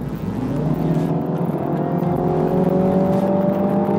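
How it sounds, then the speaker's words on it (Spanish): A 2019 Mini Cooper S in Sport mode accelerates hard, its engine note climbing steadily in pitch for about four seconds, close and loud with no talking. "Coloquemos ahora el modo Sport y veamos una aceleración."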